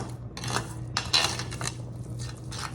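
Utensil clinking and scraping against a pot while red pepper flakes, salt and cumin are stirred into onions and paste for baked beans. The bursts are short and repeated, with a low steady hum underneath.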